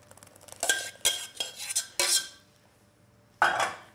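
Pea puree is mixed into potato mash in a pot with a utensil: a series of close, sharp scraping and clanking stirs in quick bursts, then a pause before one last scrape, with no talking.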